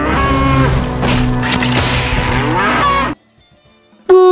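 Two water buffalo in the anime Jigokuraku give a loud, low bellowing moo for about three seconds. It cuts to near silence, then a sharp sound bursts in.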